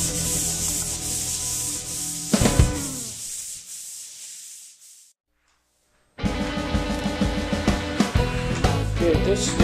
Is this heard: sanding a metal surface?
yes